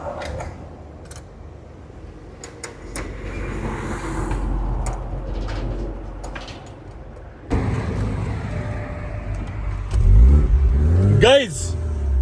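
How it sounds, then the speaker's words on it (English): A BMW car with a freshly fixed battery pulls away and drives off, its engine rising in steady revs over a rumble of road and wind noise, with people talking over it. "now we are on our way to Nakuru with no other issue whatsoever on the BMW"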